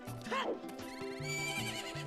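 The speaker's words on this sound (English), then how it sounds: "with the flying boots making a horse sound" A horse neigh plays as the hover boots are used in an Ocarina of Time randomizer, a short whinny sitting over steady background game music.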